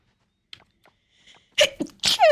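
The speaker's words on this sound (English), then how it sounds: "Ooh, I'm gonna sneeze." A person lets out one sharp sneeze close up, after a few quiet breaths that build toward it. A short vocal sound follows straight after.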